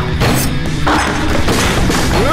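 Loud, chaotic crashing and booming, like a drum kit being battered and knocked over, with cymbal-like clangs and heavy thuds piling up.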